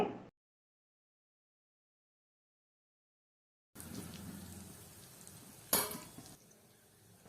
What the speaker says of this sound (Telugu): క్రష్ చేసుకున్న ధనియాలు పసుపు ఉప్పు వేసి ఐదారు సెకండ్ల పాటు తాలింపులో బాగా కలపండి